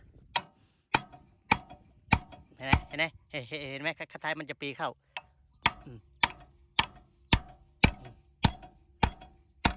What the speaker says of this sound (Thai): ตอกไปหน้านะ